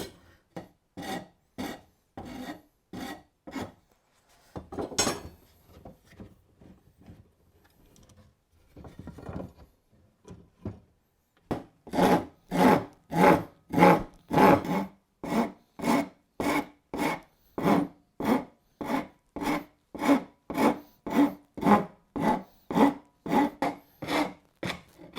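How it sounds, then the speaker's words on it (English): Old farrier rasp filing a rough-shaped wooden sword, with close, rhythmic back-and-forth scraping strokes, a short pause partway, then a long run of strong, regular rasping. "if you can find an old farrier rasp or file"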